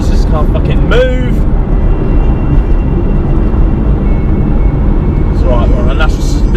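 A manual BMW M2 engine revs hard inside a tunnel, a loud, booming drone with rising pitch sweeps as it climbs through the rev range, echoing off the walls, with someone talking over it.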